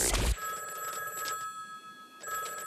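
A telephone rings in a cartoon scene, one burst of ringing, then a sustained electronic tone, then another ring starting near the end, fairly loud and close with no talking.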